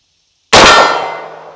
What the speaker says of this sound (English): I'm going to fire this first shot double action